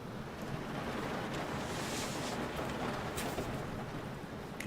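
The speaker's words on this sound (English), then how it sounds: "in real life the waves out in the Atlantic in a maximum storm would be even larger and even longer" Stormy ocean waves in the Atlantic from the submarine game UBOAT, a steady, loud wash of surf and wind roaring continuously without pause, with no talking over it.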